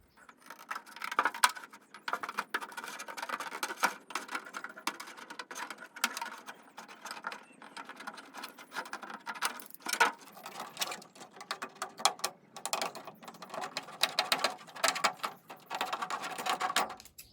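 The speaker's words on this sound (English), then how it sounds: "Now I'm using these scissors because it has this jagged edge, and it kind of likes to not slip around while I'm cutting." Serrated scissors snip through a Pro-Line FJ40 Cruiser scale RC truck body, giving steady close crackly cutting clicks with a few sharper snaps, no talking.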